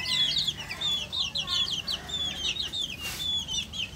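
Young chickens in a coop peep and cluck in a busy, overlapping chorus of high chirps, fairly close, with a brief muffled bump partway through.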